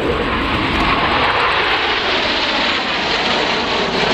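Red Arrows jet aircraft flying a formation display at the Biggin Hill airshow give a loud, continuous broadband engine roar that holds steady throughout, with no voices.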